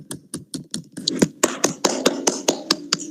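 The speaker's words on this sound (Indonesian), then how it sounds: "anak-anak, tepuk tangan." A group of schoolchildren claps hands in a classroom, a string of about fourteen crisp, separate claps that starts sparse and quickens into a steady, louder rhythm.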